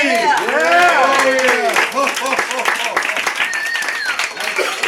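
An audience at a Christmas Eve show with Santa claps and cheers for the performer Mr. C, a burst of close applause mixed with shouting voices that tapers off while people keep talking.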